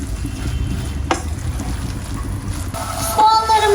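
Onions and mushrooms sauté in a pan for a creamy mushroom soup, giving a steady broadband sizzle with a few utensil scrapes and a brighter clatter near the end.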